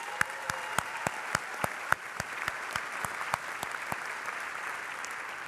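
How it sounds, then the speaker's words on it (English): Applause rings out at a community college graduation ceremony for the classes of 2020 to 2022, heard as sparse, distinct claps that stay fairly faint throughout. "Let's give them a round of applause again."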